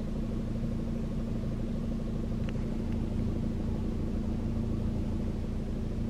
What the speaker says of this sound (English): I think there's something wrong with my car.